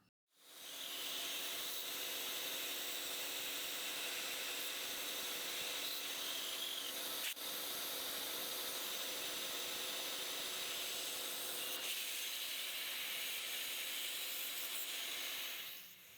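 A carbide end mill finish-mills pockets in a part, giving a continuous loud hissing, whirring cut with a steady tone that holds throughout, with no talk.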